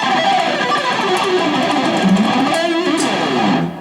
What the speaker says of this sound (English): Let's see what's going to happen with a little bit more distortion.